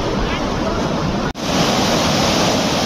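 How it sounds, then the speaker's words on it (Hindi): Loud, steady rush of flowing water at Ram Ki Paidi riverside ghats in Ayodhya, a continuous broadband wash close by with one momentary dropout partway through. "पानी की कलकल करती हुई ध्वनि कितनी ज़बरदस्त लग रही है यहाँ पे"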